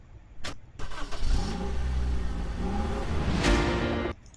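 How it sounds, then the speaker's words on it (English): A car engine starting as an added sound effect: a brief click and crank, then the engine catching into a steady mid-pitched idle that cuts off abruptly, close and clear. "I only add some like just one car engine starting like sound effect"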